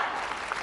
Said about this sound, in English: listen to the crowd getting very excited here